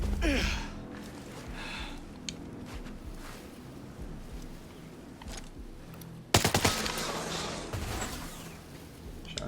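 Gunfire in Ghost Recon Breakpoint on extreme difficulty: a sharp broadband burst of shots cracks out near the end over a steady game ambience, with a few quieter earlier pops.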